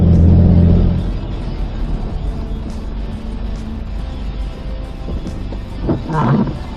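A four-wheel drive vehicle climbs a slippery hill in low range, its engine a loud, close, rumbling drone that swells at the start and again near the end, with some light rattles.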